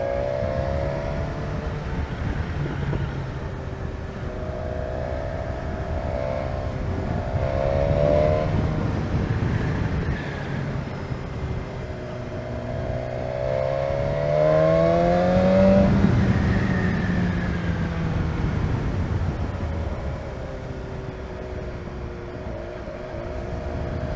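BMW S1000XR motorcycle ridden along a country road near Duncton, a steady engine drone with rising and falling revs through gear changes and wind rush, heard continuously with no talking.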